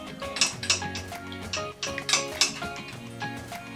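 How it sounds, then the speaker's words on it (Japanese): A utensil scrapes and knocks against the bottom of a metal pot over low heat while making vanilla ice cream custard, in a series of uneven strokes, close up, with faint tonal sounds behind. "この鍋底をこうやって払ってあげる。"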